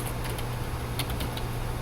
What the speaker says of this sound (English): All right, I'll finish typing this up.